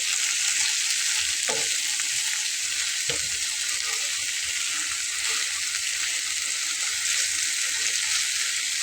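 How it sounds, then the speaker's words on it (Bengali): Radish greens frying in a pan, a continuous close sizzle with occasional soft scrapes and stirring knocks of a spatula throughout. "তাহলে আরেকটু ভাজা করে নেব"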